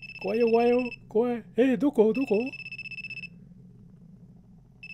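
A telephone in a mobile horror game rings in a steady repeating electronic trill throughout, carrying on under a frightened voice that talks over the first half.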